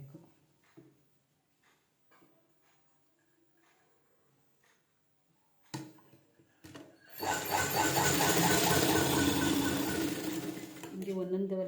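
A sewing machine stitches a round-type lined blouse, starting after a quiet stretch with faint talk and a few soft handling sounds, then running loud and steady close by until the end.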